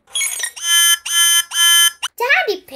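A library computer lets out loud, long electronic beeps: three sustained buzzing tones in a steady pulse, followed by a brief burst and a high, wavering voice, likely someone imitating or reacting to the alarm.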